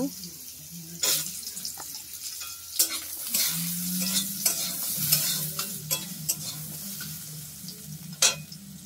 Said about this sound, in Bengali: আমি এই যে কড়াইয়ের মধ্যে এই যে আলুগুলো দিয়ে আলুগুলোকে একটু ভেজে নেব